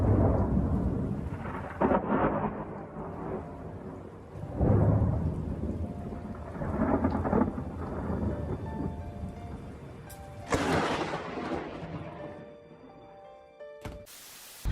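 Thunder booms and rolls repeatedly during a lightning storm over steady rain, with several loud crashes and one sharp close crack near the end.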